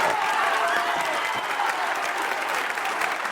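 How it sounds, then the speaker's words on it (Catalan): A canned recorded applause effect inserted into a Catalan comedy show plays as a dense, even wash of clapping and light cheering, uniform in level and unbroken for its full length. "Les 3 vegades t'he colat els aplaudiments de la gente de Vitores"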